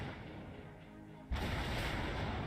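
A naval gun salvo from battleships in the naval strategy game Battle Fleet 2: after a quiet lead-in, one sudden loud boom breaks in and spreads into a heavy, sustained roar of gunfire and rumble.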